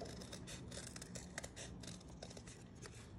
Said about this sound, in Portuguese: é só a gente cortar aqui na beiradinha toda e cortar essa parte aqui também